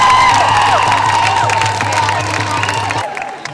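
A large crowd at an International Women's Day rally cheers loudly and continuously, whoops and claps blending into a dense roar that fades at the end.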